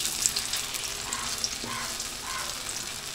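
Banana flower chops fry in hot oil, a steady close sizzle and crackle with a few small pops, and no talking over it.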